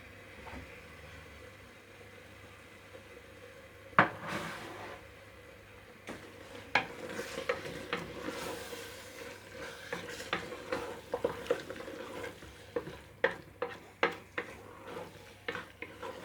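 Spiced potato and cauliflower being stirred in a pan for aloo gobhi: a quiet, steady background scrape punctuated by a series of distinct clinks and taps of a spoon against the pan, growing busier toward the end, with no talk.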